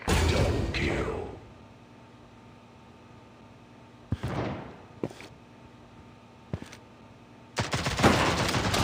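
Shotgun blasts in the shooter video game Critical Strike: a dense burst of gunfire at the start, then three or four single loud shots spaced apart and a heavy closing volley, with quiet game ambience between.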